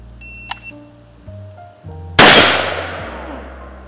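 A Valmet or Norinco reservist rifle fires a single loud, sharp gunshot, close by, with a long ringing decay, after a few small clicks and thumps of handling. No one speaks.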